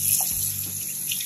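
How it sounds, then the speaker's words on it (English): Water from a tap rinsing salt off a salmon fillet at home: a steady running trickle and splash at close range, fairly quiet, with no voices. "I'm gonna rinse it off."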